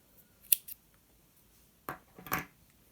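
Scissors snip through a yarn end during crochet work, a few quiet, sharp close-up cuts separated by silence.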